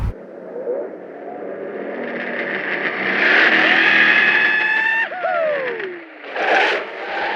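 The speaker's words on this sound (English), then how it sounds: "Right now we are driving to the Duke farm." A car drives along roads in Covington, Georgia, its engine hum rising and falling under a smeared, echoing wash of sound, with a sweeping pitch glide near the end.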